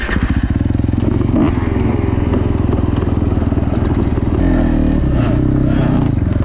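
An enduro motorbike engine drones loud and close as the bike rides over bumpy ground, with a steady throbbing note, small shifts in revs and rattling clatter from the rough terrain.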